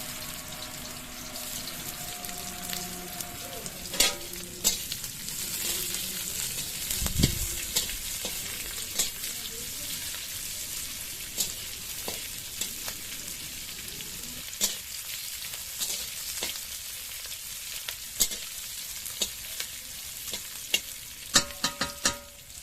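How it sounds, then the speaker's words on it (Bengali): Onions frying in oil with bay leaf and chilli, a soft continuous sizzle broken by repeated scrapes and clinks of a spatula stirring the pan, no voices. "মা একটু খুন্তি দিয়ে তেজপাতা এবং লঙ্কাটাকে হালকা নাড়ানাড়ি করে নিচ্ছে। নাড়ানাড়ির পর পেঁয়াজ দিচ্ছে।"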